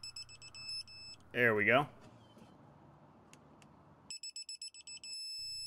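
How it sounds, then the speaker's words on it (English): A torque wrench, used while tightening strut mounting nuts on a 2008-2014 Nissan Frontier/Xterra, gives a pulsing electronic beep that turns into a steady tone once torque is reached. A brief spoken phrase comes just before, in a quiet garage. "And for this torque wrench, it's going to beep."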